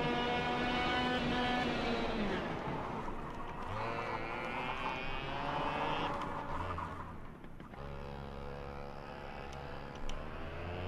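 A go-kart engine at full throttle in the KartKraft racing game, a steady harmonic buzz that climbs in pitch, dips and climbs again through the revs, loud and continuous with no talking.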